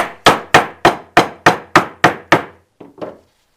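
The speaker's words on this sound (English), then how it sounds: "Work a little more with the hammer." A rubber mallet drives an O-ring into a blower during a rebuild: eight crisp, evenly spaced blows in quick succession, then two softer taps, loud and close with no talk.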